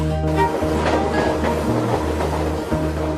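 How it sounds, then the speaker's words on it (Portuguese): A passenger train in Brazil rolls along its rails with a steady low rumble and droning hum, plus faint rhythmic rattling, continuous and fairly close, with no voices. "Na rota do trem,"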